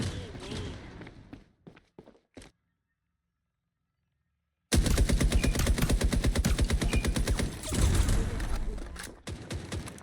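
Rapid automatic gunfire in the shooter video game FragPunk rattles in long dense bursts after a short silence, loud and close, with a brief pause between volleys.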